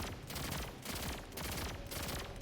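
Sustained automatic gunfire from an enemy in the Destiny game's Perdition lost sector, a dense, loud, continuous burst of rapid shots with brief pauses, booming and close, with no talking.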